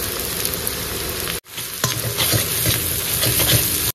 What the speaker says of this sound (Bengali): মশলা কষানো কিন্তু আমাদের কমপ্লিট হয়ে গেছে